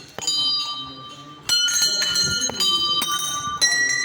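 A bright metal temple bell at Dongar Mendha temple is struck several times at uneven intervals, each ring sustaining and decaying, with soft voices faintly in the background.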